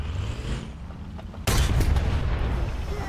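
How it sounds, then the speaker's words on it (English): A Leopard PSO tank, a bulldozer-fitted Leopard in War Thunder, fires a HEAT round: a sudden loud cannon blast cuts in partway through and rolls into a sustained boom and rumble over a low engine drone. "Ah, good old reliable heat round."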